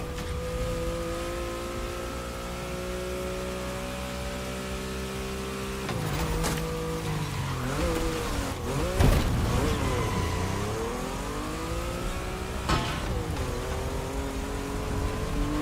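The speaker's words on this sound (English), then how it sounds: "There's an absolute classic heading your way, a grail among collectors and Jim's greatest pride, the Mustang Boss 429" Mustang Boss 429 muscle car in The Crew Motorfest, a steady deep idle that starts revving and rising in pitch midway with a few sharp knocks, moderately loud and alone.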